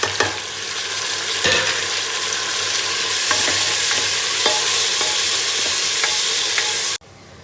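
Tomatoes go into golden frying onions in a pan for mushroom biryani, with a loud steady sizzle and repeated scraping stirs of a spoon against the pan, cutting off abruptly at the end.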